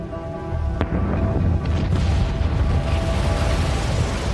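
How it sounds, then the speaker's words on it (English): Deep booms and rumbling explosions from the eruption of the Krakatoa volcano, a sharp burst near the start followed by continuous heavy roaring and thuds throughout. "A series of booms could be heard hundreds of miles away."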